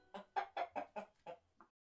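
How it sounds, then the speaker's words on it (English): A hen clucking in a short burst of six rhythmic clucks, close and clear against a quiet background, ending with a softer final cluck. "the giant went to the cupboard and pulled out a golden hen"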